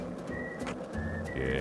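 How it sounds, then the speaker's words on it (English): A short, clear tonal whistle from the Deadly Premonition 2 video game sounds twice, each note held briefly, over faint low background hum. "Yeah, he did the whistle."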